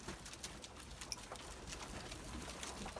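Low, soft cooing from pigeons kept in a loft rises and falls over a faint background hiss, with no voices.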